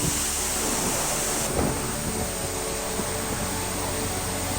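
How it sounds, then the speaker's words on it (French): A karst flood waterfall with pressurized water jets bursting from rock roars as a dense, continuous broadband rush, loud and steady throughout with no other sounds standing out. "Au pied de la cascade, le débit est tel qu'il provoque un souffle puissant."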